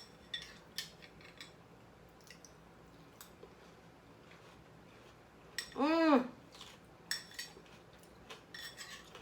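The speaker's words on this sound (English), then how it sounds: "We're gonna use this spoon." A spoon scoops through watermelon ceviche, soft wet squishes and faint clinks of metal against a bowl, sparse and close, with a brief voice rising partway through.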